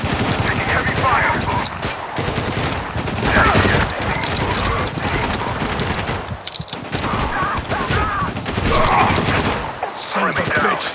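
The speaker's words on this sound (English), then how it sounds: "Taking heavy fire!" Heavy automatic gunfire rattles in dense bursts through a battle in the video game Spec Ops The Line, loud and continuous with brief gaps, while character voices shout over it.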